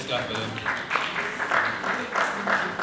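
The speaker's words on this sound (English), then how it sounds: "Okay, let's clap for them, please." Audience applause at an energy symposium and exhibition, a steady wash of clapping rising and falling in waves across the whole stretch, fairly close and moderately loud.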